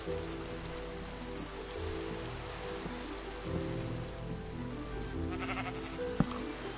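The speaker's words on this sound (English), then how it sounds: "I wish it wasn't raining." Rain falls in a survival video game as a steady, soft patter of drops on surfaces that runs throughout. No one speaks.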